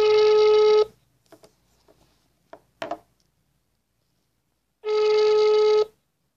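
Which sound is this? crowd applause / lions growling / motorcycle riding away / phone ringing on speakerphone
phone ringing on speakerphone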